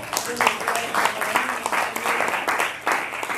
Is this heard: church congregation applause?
yes